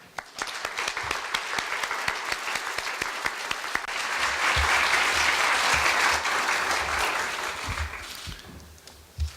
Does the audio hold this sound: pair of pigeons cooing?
no